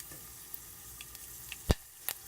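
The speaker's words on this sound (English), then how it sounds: "half a spoon of mustard seed. And that's gonna pop. Hear the popping?" Mustard seeds pop in hot oil: scattered sharp pops and crackles over a soft steady sizzle, a few louder bursts standing out among the faint ones.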